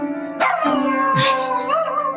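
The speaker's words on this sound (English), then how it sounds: "That's a dog. That's an incredible doggy" A dog howls in a long, wavering, rising and falling wail, broken by a short yip midway, close and loud.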